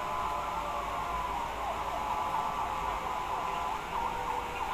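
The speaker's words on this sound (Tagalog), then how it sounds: "Ang dami na pong dumating na ano, na fire truck po dito." Multiple fire truck sirens wail continuously at the scene of a fire in Sampaloc, Manila, steady and fairly loud over street noise, with no talk.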